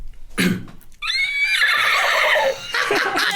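A beatboxer imitates a horse neigh with the voice, a short breathy burst followed by a long, bright, quavering whinny that fades near the end.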